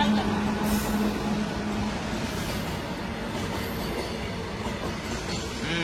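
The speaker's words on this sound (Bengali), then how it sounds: "মালগাড়ি যাচ্ছে।" A freight train passes nearby with a continuous heavy rumble, rattling wagons and faint wheel squeal that hold steady throughout.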